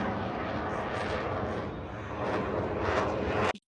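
Airplanes at an airshow roar past in a steady, loud engine wash that swells toward the end before cutting off abruptly.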